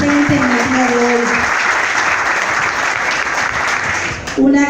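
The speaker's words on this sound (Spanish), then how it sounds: "fuerte el aplauso para Siderio" An indoor audience at a speaking event in Tamboril claps steadily and loudly for several seconds, a dense wash of applause that fades before a voice briefly begins.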